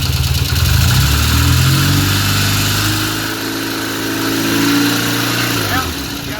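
A restored 1975 Norton Commando Mk3 motorcycle engine runs loud and close, rumbling through a rev that rises and then settles back toward idle, with people talking over it.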